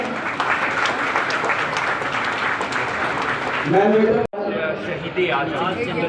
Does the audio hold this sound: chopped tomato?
no